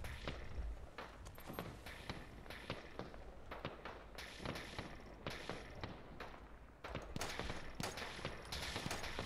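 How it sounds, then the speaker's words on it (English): Rapid bursts of energy-weapon fire in Fallout 4, gamma guns shooting in dense volleys of sharp cracks that keep going through the whole stretch, with short pauses and loud peaks. "Oh, these are gamma weapons."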